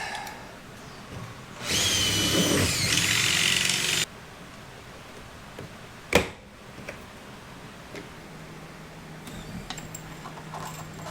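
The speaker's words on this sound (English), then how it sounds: "So I told you guys not to buy this rivet gun. It's jammed." A jammed rivet gun whirs loudly for about two seconds and then cuts off, followed by a single sharp snap and quieter workshop ambience while fitting side rockers on a Camaro.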